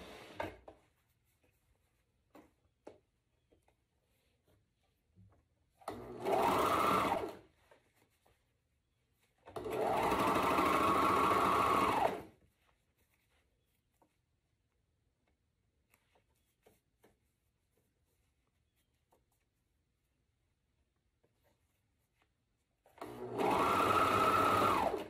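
A sewing machine stitches a curved seam on a corset in three separate runs of a few seconds each, a rapid whirring chatter, with quiet handling sounds between runs.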